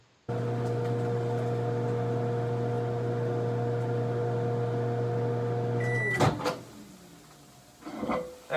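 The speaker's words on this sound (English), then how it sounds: "After 2 minutes in the microwave, these nachos have completed." A microwave oven hums steadily for several seconds heating nachos, then stops with a beep and a door clunking open, followed by faint rustling.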